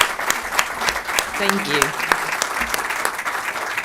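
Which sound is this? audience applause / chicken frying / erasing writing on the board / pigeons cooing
audience applause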